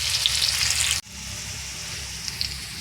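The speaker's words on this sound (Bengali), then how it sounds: "প্রথমে আমি আলুটাকে ভেজে নেব," Salted potatoes sizzle loudly in hot oil in a wok, the crackle dropping abruptly for an instant before settling into a steadier, softer frying hiss.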